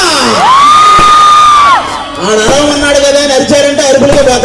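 A big crowd of fans yells and cheers loudly, with long whooping shouts rising over a roaring mass of voices.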